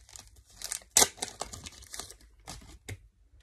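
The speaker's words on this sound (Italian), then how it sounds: "adesso le metto in un sacchetto poi dopo vedo come" One Piece trading cards are slipped into a small bag, making a string of close crinkles, rustles and soft taps, with one sharper crackle early on.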